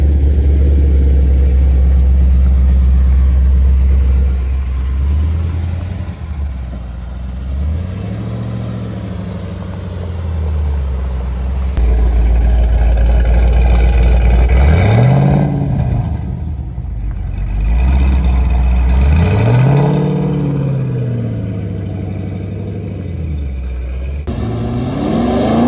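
A tuned 900 HP 2013 Chevy Camaro ZL1 with a manual gearbox idles with a deep rumble, then is revved hard several times, each loud close blip sweeping up and falling back to idle.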